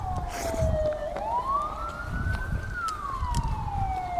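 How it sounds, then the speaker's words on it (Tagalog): An ambulance siren wails, sweeping down, rising and falling again, loud and steady over the low rumble of road traffic. "Ambulansya lang ito."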